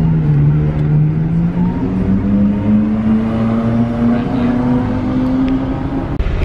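A car cruising through Beverly Hills, its engine droning steadily with pitch slowly climbing as it gathers speed, loud and close from inside, with road rumble beneath.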